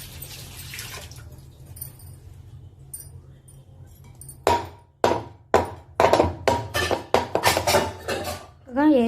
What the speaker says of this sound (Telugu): ఎయిర్ బబుల్స్ ఏం లేకుండా ట్యాప్ చేసుకోండి.